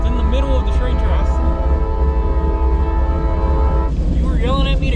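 A train rolls loudly past a crossing, its horn blaring in sustained chords close by, while people talk over the rumble.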